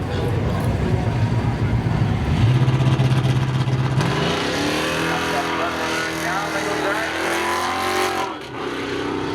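A green 1993 Chevy 1500 pickup and a 2000 Camaro roar side by side in a spectator drag race at Seekonk Speedway, engines loud and revving up through the gears, with a voice audible beneath the engine noise.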